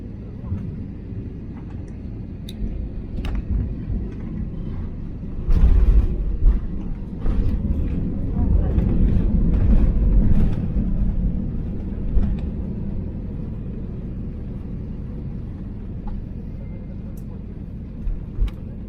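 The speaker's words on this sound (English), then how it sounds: "Touchdown was smooth and taxiing to the gate was surprisingly straightforward." A Philippine Airlines Airbus A321 landing at Manila, heard from inside the cabin: a steady low engine and airframe rumble swells into a heavy roar at touchdown and rollout, then settles into a quieter taxiing hum with small clunks.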